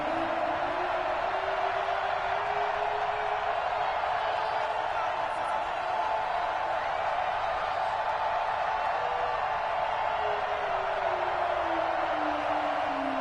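Steady stadium crowd roar from an EA Sports NFL video game matchup between the New Orleans Saints and Seattle Seahawks at kickoff, a dense continuous wash of cheering with a commentator voice over it.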